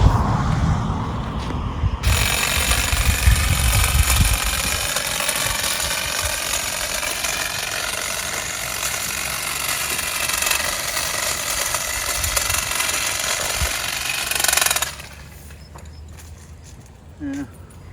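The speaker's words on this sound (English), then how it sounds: "here we go at the bush trimming job that we told you about. Let's see if this pole extension works." A pole-extension hedge trimmer buzzes steadily through garden bushes, a loud continuous motor drone with rattling blade chatter lasting most of the stretch before cutting off and leaving quieter outdoor ambience near the end.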